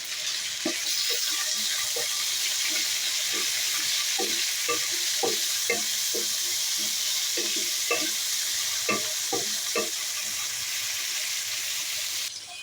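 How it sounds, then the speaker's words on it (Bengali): Meat fries in a pot of oil with onion and garlic, a loud constant sizzle running throughout while a spoon stirs and scrapes in a steady series of close knocks; no one speaks. "আমি অফ ক্যামেরাতে মাংসগুলো দিয়ে দিচ্ছি"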